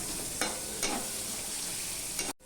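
Onions fry in a pan with a constant, close hiss, broken by a few soft scraping strokes as they are stirred. A brief dropout comes near the end.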